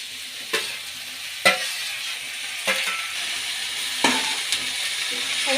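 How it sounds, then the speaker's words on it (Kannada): Chopped onion and cauliflower sizzle in hot oil in a pan, a close, steady frying hiss broken by about five sharp scraping stirs of a spoon, with no voices. "ಎಣ್ಣೆಯಲ್ಲಿ ಈರುಳ್ಳಿ ಸ್ವಲ್ಪ ಫ್ರೈ ಆಗಲಿ. ಈಗ ಹೂಕೋಸನ್ನ ಸೇರಿಸ್ಕೊಳ್ಳೋಣ."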